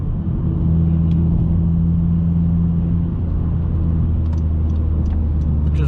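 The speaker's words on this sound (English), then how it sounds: "Those downshifts, they sound so good. You can hear like you can hear the air be sucked in by the intake." Heard from inside, a manual Honda Civic fitted with a Type R shift knob gives a steady, loud engine drone with an intake note that shifts in pitch partway through, as during downshifts, with faint clicks near the end.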